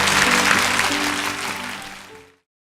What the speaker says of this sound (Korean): 우리 모든 이 세상의 엄마들이 박수 보내드리고 응원 보내드려야 될 것 같아요